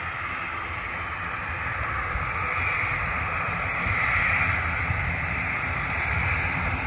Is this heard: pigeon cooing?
no